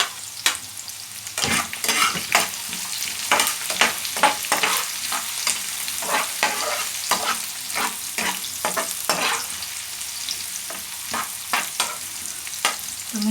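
Garlic and onion sauté in a hot pan, a steady sizzle broken by repeated scraping stirs and clinks at an uneven pace, close and clear with no speech.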